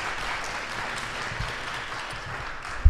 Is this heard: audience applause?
yes